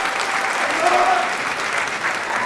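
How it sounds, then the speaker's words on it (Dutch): A crowd at the Miss Fashion pageant claps for the ten finalists, producing steady, dense applause at even loudness throughout with no break. "Geef ze ook een applaus natuurlijk, hè."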